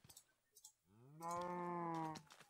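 A blocky cow in the Minecraft video game lets out one drawn-out, tonal moo lasting about a second. It swells loud and clear after a few faint game sounds and plays on its own with no talking.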